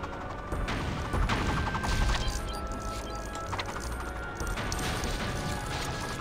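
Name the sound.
chandeliers smashed by batarang in LEGO Batman video game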